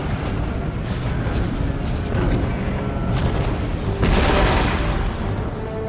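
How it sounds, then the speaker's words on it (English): Massed musket volleys crackle through a pitched battle between American and British lines at Camden in Empire: Total War, a dense rolling roar of gunfire with a louder burst of shots near the end. "we're going to have our first mass volleys"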